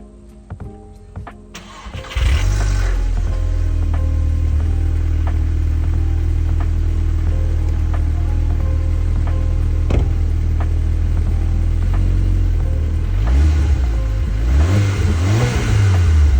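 A 2013 VW Golf R on its stock exhaust, with only an aftermarket intake, cranks and fires up, settles into a steady, loud idle, then revs a couple of times near the end.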